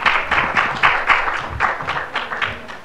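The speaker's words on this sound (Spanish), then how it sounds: "También la recibimos con un fuerte aplauso." Audience applause at a Latin American internet governance forum session, a modest round of clapping in uneven bursts, fairly close and not very dense, fading over a few seconds.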